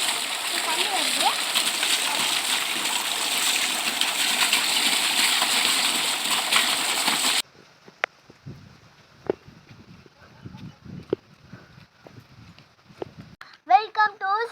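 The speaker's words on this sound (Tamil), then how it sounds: "நம்ம மாங்காய் கழுவ போகிறோம்." Freshly picked mangoes are rinsed under running water for a mango pickle. A steady, loud rush of flowing water runs for about seven seconds, then stops abruptly and is followed by scattered knocks and handling sounds.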